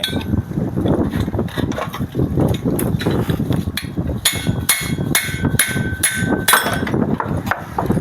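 Repeated hammer blows knock a part out of a lawn mower under repair, a steady run of loud metallic strikes with ringing clinks, close by with no talk.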